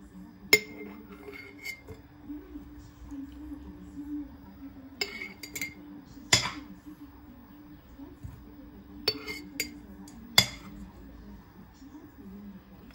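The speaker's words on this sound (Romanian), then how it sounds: "acum voi începe să umplu borcanele" Glass jars are filled with vinegar-pickled red peppers and horseradish, producing sparse sharp glass clinks and knocks spaced several seconds apart while a person talks throughout.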